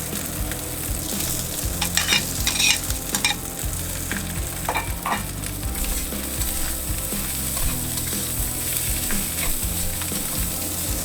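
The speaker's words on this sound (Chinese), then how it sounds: "这时候加入炒好的鸡蛋和青菜一起翻炒均匀" Rice tossed in a hot wok with scrambled egg and greens, a constant loud sizzle with repeated scraping clatter from the spatula, close up, with no voices.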